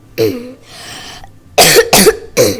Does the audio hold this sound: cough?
yes